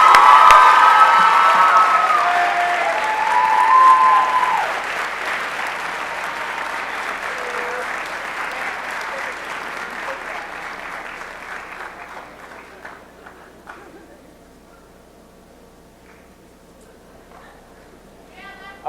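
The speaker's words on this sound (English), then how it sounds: "Let's give her a few rounds of applause." An audience at a high school senior academic awards assembly breaks into applause mixed with cheers and a few high shouts. The clapping starts loud and dense, then gradually thins and fades to scattered claps near the end.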